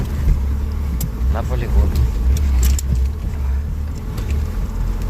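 Inside a UAZ Bukhanka van on the move, a heavy low engine rumble and road drone fill the cabin, with rattles and clanks from the body while people talk over it.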